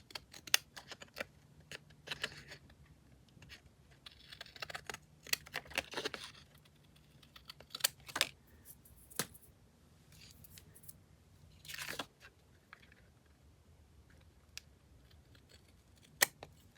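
Scissors snip through sticky paper in a journal craft project, with sharp cuts coming in irregular clusters and pauses in a quiet room, close to the microphone and with no talking.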